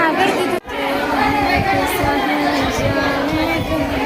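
A dense crowd chatters at the Pangri Maruti temple fair, a constant close murmur of many overlapping voices with one brief dropout near the start.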